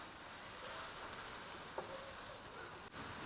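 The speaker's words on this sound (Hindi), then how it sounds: "इसको हम हल्का सा भून लेते हैं प्याज़ों को।" Finely chopped onions sauté in a pan with a steady, close sizzle and crackle. A few faint stirring scrapes come through, and no one speaks.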